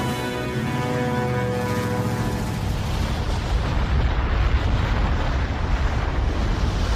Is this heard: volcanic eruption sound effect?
yes